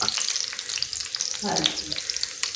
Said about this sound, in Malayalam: നമ്മളെ വാഹ അടുപ്പത്ത് നിന്ന് ഇങ്ങനെ നല്ല അടിപൊളിയായിട്ട് പൊരിയുന്നുണ്ട് ഗൈസ്